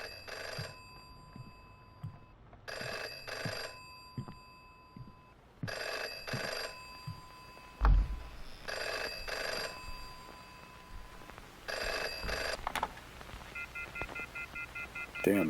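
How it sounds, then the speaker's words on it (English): A telephone rings in the indie horror game FM, sounding in regular bursts of bright electronic trills separated by short pauses, with faint background noise between rings. "Phone's ringing again"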